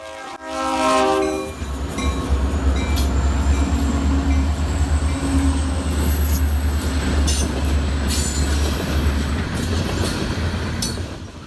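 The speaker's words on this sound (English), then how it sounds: "steel wheels grinding on the tracks" A freight train on the Wheeling and Lake Erie line rumbles past in Thurston, Ohio, after a short horn blast, its steel wheels grinding and squealing on the rails with steady heavy rolling noise.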